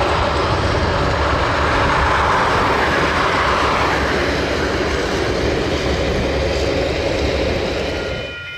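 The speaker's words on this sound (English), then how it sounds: "the train cruises along the causeway at St. Leonard's on the approach to a stopboard worksite" A Dunedin Railways train rumbles loudly and steadily along the causeway at St. Leonard's, a dense continuous roar with faint clatter, easing slightly at the very end.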